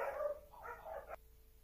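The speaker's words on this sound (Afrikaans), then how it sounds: "Ekskuus, verskoon die honde asseblief." Dogs bark indoors, two or three quick muffled woofs close by, then a brief yip at the end, with quiet room ambience after.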